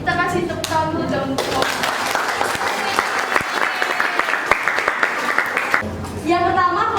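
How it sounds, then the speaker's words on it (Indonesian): A burst of applause from a class, dense clapping sustained for several seconds between stretches of a person talking before and after. "kita kasih tepuk tangan dulu dong"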